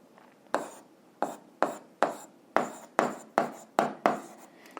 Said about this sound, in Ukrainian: Записуємо, що точка D.